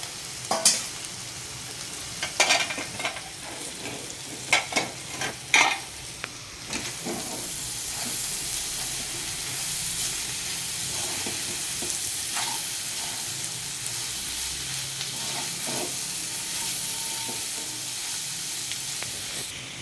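Cluster beans (gokarakaya) fry in a pan with coriander leaves, giving a steady, close sizzle throughout, with a few sharp stirring clatters early on.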